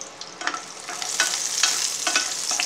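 Onions sautéing in a hot pan for a Tamil bitter gourd tamarind curry, a close, steady sizzle broken by several scraping stirs of a spoon.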